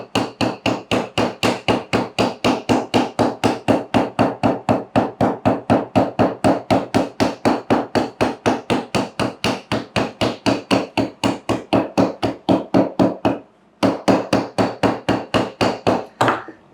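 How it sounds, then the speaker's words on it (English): A poly mallet pounds a glued leather canteen seam resting on a heavy base: a fast, steady run of loud, close thuds that barely pauses once near the end, with no talking. "and you're going to hammer that seam."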